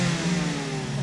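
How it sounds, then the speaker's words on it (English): A 2001 Toyota Yaris T-Sport fitted with a new exhaust revs briefly, its droning, buzzy note holding steady and close, with no talking over it. "an extra special feature on this car, which I love, is the new exhaust note"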